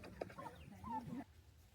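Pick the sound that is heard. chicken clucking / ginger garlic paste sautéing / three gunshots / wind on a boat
chicken clucking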